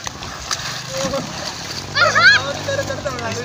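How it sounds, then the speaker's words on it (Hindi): Children bathing in a village canal on a rainy day, with water splashing and sloshing in bursts, loudest midway, mixed with kids' voices and nearby talk. "ये हमारी गांव की नहर है, इसमें बच्चे लोग नहा रहे हैं"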